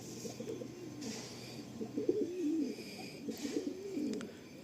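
Malwai pigeons cooing in a loft, soft repeated throaty coos overlapping one another at a moderate distance, with low rolling calls running through the whole stretch.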